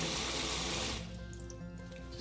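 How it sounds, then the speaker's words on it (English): Water from soaked bulgur wrung out of a tea towel into a sink, a loud close splashing gush for about a second that drops to a faint trickle and drips. "you're really going to have to squeeze out all that water. You're using a tea towel"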